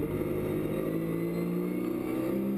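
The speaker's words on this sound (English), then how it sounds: "Here's Piron behind Bertram, and they're lapping one of the Turkish Porsches." Porsche GT3 race cars lapping the Spa circuit, a steady loud engine drone with harmonic whine holding at close range throughout, no voices.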